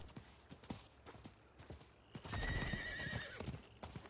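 A horse in a video game trots with steady clip-clop hoofbeats, then lets out a loud, drawn-out whinny, all fairly quiet and close.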